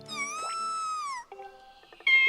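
A kitten-like creature in the Wii game Zelda Skyward Sword gives a long, drawn-out meow, then several shorter mews and a final rising cry, all clear and alone.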